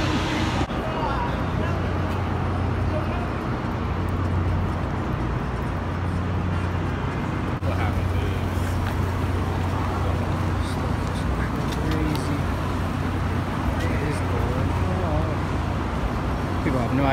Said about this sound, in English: I ain't never see a Middletown traffic go so quick before.